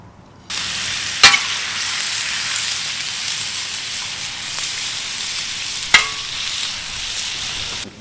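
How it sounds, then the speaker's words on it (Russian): Oil poured into a hot frying pan bursts into a loud, steady sizzle up close, with two sharper crackling spikes partway through as it spits. "Первым делом надо залить масло."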